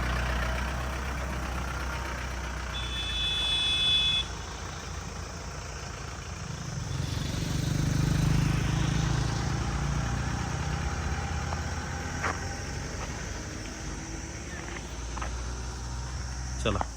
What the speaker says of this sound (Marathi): गाडी खड्ड्यापिड्ड्यातून एकदम सावकाश घ्या